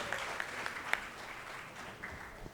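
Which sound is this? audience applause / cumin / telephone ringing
audience applause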